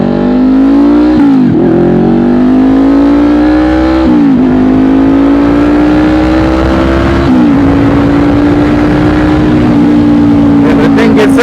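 A 2020 Honda CBR500R motorcycle with an aftermarket exhaust accelerating through several gears, its loud close engine note climbing steadily and dropping at each shift, droning and raspy throughout.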